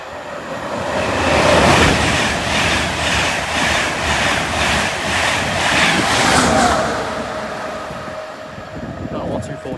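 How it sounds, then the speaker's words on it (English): A 225 set passenger train on a Leeds to London King's Cross service roars past at Newark Northgate, a loud rushing rumble with rhythmic rail-joint beats that swells early and fades toward the end. "Here's a 225 set running a service from Leeds to London King's Cross"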